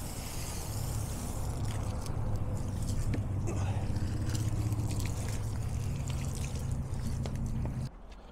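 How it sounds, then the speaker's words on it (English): A garden water hose sprays mud off a Lectron 32A EV charger unit, giving a steady, close rushing hiss of water that runs continuously and then cuts off near the end. "Cleaning that mud off the unit with a water hose."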